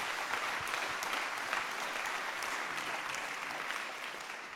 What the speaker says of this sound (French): je crois que vous pouvez l'applaudir, hein, j'ai entendu que ça commençait.